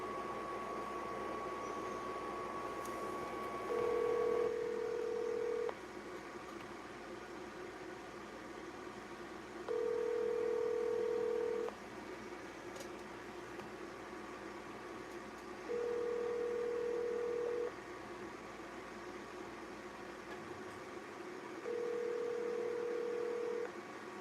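A phone call goes out while someone tries to reach a contact, with four evenly spaced ringback tones pulsing over a low steady background hum, each tone lasting about two seconds, faint and alone without talk.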